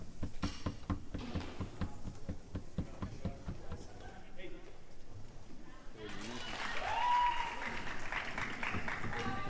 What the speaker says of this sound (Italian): Ancora il Fido Lugani riceve l'applauso dei suoi beniamini sugli spalti.